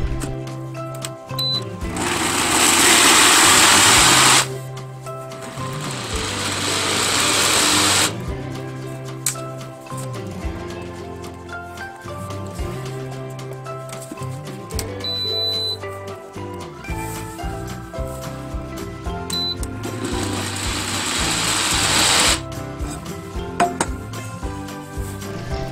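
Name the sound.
blender grinding soybeans with water for soy milk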